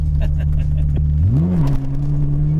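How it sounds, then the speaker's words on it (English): A Ferrari launching from a standing start, its engine note rising loud and close as it revs up and climbs in pitch, then holding a steady high drone; no talk is heard. "So let's try another standing start."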